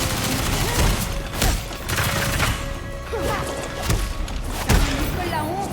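Gunfire and impacts in the Gotham Knights video game arrive as a series of sharp bursts and heavy crashes scattered across several seconds over a dense background of game sound.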